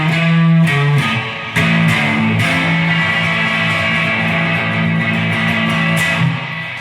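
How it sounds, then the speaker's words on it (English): Electric guitar plays a closing blues turnaround: a few plucked chromatic notes resolving into a sustained, ringing final chord, loud and close with no talking. "there's a blues turnaround that's used to end it."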